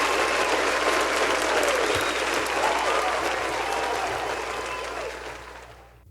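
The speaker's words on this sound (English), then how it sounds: "Round of applause" Dense, loud applause from a crowd, steady for several seconds before fading away at the end.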